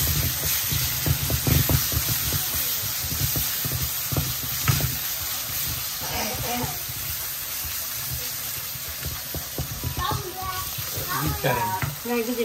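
Okra frying in a pan with curry powder, a steady close sizzle with scraping and stirring clatter, while a person talks over it and a voice is faintly heard.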